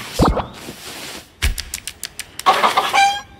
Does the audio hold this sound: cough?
no